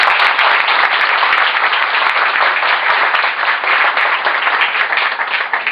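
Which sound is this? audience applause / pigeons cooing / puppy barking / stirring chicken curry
audience applause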